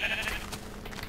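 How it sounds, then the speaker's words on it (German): Sheep bleating in the Minecraft video game, a short wavering bleat at the start over a continuous background of game sound, fairly loud and alone without talk. "Hier haben wir noch die fröhlichen Schafe"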